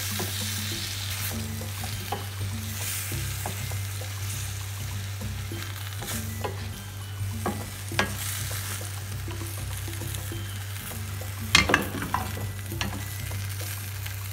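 Shrimp and broccoli stir-fry in a pan with oyster sauce, a soft continuous sizzle under a low steady hum, broken by scattered scraping clicks of the utensil and a louder clatter near the end.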